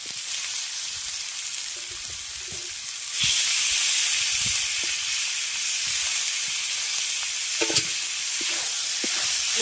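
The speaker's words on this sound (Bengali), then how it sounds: "বাঁধাকপি আর মটরশুঁটিটাকেও ভালো করে মশলার সঙ্গে আগে একটু কষিয়ে নেব।" Cabbage and peas frying with spices for a vegetable curry to go with dal puri, a steady broadband sizzle that jumps louder about a third of the way in, with scattered stirring scrapes and clicks of a spoon against the pan.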